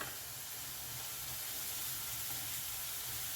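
Onions frying in a pan at home give off a quiet, steady sizzle and hiss, soft and even from start to end, with no talking.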